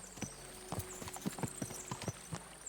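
Horse hooves clip-clop in Kingdom Come: Deliverance II, a brisk run of about a dozen sharp hoof strikes at an uneven trotting rhythm, faint and close over a thin steady background tone.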